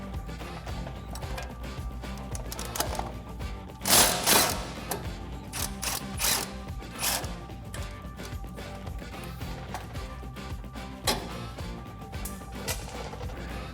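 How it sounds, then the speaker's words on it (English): A ratchet with a 17mm socket loosens the sway bar end link nut on a Tacoma's front suspension, giving rapid clicking bursts and metallic clanks up close, with louder clacks near the middle. "So we're going to take a 17mm socket on this nut to get that off."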